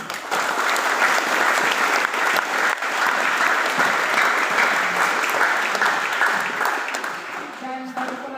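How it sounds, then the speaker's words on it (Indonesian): Audience applause at a retreat for baptism candidates, a loud sustained burst of many hands clapping for most of the stretch, tapering as a voice begins speaking near the end. "tepuk tangan"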